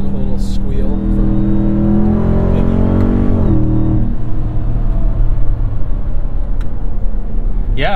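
A Ram TRX pickup fitted with an AWE 0FG exhaust pulls away under throttle, its deep engine rumble rising in pitch then settling into a steady drone, close and loud, with people talking over it.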